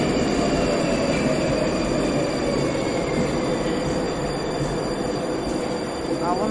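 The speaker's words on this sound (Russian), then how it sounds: "А вон и наш поезд едет." A Moscow metro train on the Big Circle Line rumbles loudly and continuously up close, with wheels squealing and rattling along the track and faint voices in the background.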